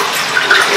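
Water pouring into a home aquarium tank during a water change, a steady close rushing and splashing flow that stays even throughout, with no one talking.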